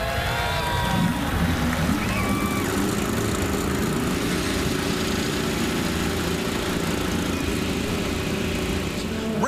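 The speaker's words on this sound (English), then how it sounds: "Drivers, start your engines!" IndyCar race car engines at the start of the 2017 Chevrolet Detroit Grand Prix street race, a loud, steady engine roar from many cars with crowd noise, continuous throughout.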